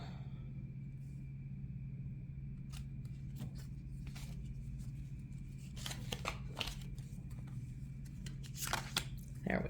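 Tarot cards being shuffled by hand, a deck that resists overhand shuffling, giving soft irregular riffling and snapping bursts that thicken toward the end, close up over a steady low hum.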